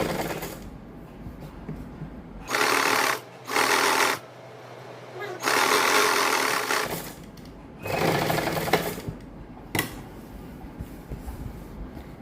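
A sewing machine stitches along the edge of buckram on a neckline, running in several loud bursts of rapid needle clatter separated by quieter pauses, close and without talk.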